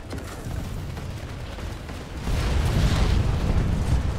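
Rumbling explosions and heavy booms in the online shooter Planetside 2, a dense continuous roar that swells louder partway through amid intense combat.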